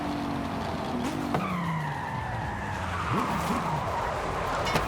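A racing car skids through a 180-degree spin, tires squealing in a long sliding screech that bends in pitch, followed by wavering engine revs, loud against continuous road and wind rumble.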